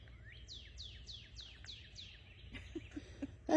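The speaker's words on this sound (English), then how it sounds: "I hear that bird. Let's listen." A bird sings in a backyard bird sanctuary, a clear series of about six rising-falling whistled notes in quick succession, fairly near, followed by faint scattered clicks and a louder knock at the end over low steady background hum.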